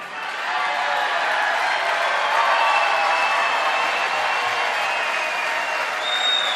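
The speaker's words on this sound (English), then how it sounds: "And the crowd goes wild" A rally crowd cheers and applauds in one steady, loud wash of clapping and shouting that holds the same level from start to finish, with no single voice standing out.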